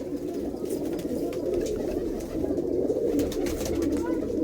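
Pigeons coo close by in a continuous, overlapping throaty murmur, a steady low warbling chorus with faint chirps above it.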